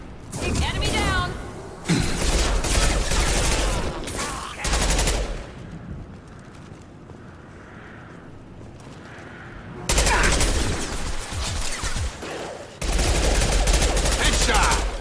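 Rapid bursts of gunfire from the Mass Effect video game crackle loudly in dense volleys, dropping away for a quieter stretch in the middle before heavy firing resumes, with a voice calling out over the battle.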